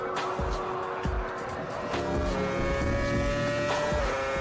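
A 2006 Formula 1 race car drives past with a loud, high-pitched engine whine that rises and falls through gear changes, heard over a steady background roar with no talk.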